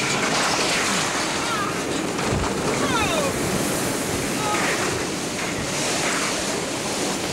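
Roaring typhoon wind from Typhoon Omar in Guam, 1992, blasts continuously and loudly through the eyewall, a dense unbroken rush of gusts buffeting the microphone with faint voices beneath.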